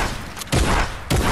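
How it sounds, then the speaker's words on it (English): Two loud, close bursts of gunfire in Fortnite, each a sharp broadband crack with a low thump, about half a second apart. "they're shooting at me"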